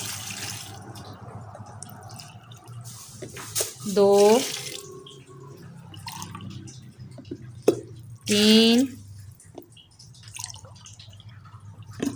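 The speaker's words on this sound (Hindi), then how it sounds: "तकरीबन 4 गिलास इसमें हमने पानी डाल दिया है।" Water poured from glasses into a cooking pot while making handi aloo gosht, with short splashing pours near the start and midway, separated by quieter stretches and a person speaking.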